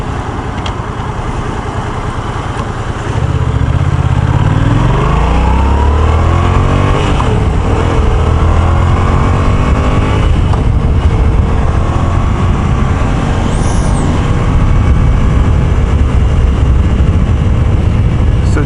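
A Yamaha FZ-07 motorcycle riding at night through city streets, its engine droning steadily and loud, with rising and falling revs as it accelerates and shifts, and constant road and wind noise throughout.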